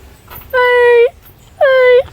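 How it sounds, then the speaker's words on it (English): A puppy whimpers twice, two drawn-out high whines close to the microphone with a short pause between them, set in rural Manchester, Jamaica. "Oh, puppy, puppy."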